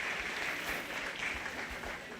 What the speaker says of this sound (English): let's give this group of senior showmen a nice round of applause